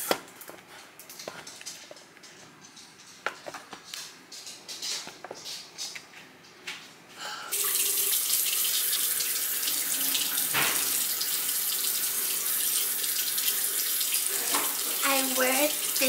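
Water runs steadily from a bathroom tap into a sink during face washing, a loud continuous splashing rush that starts abruptly after quieter handling noises and runs to the end.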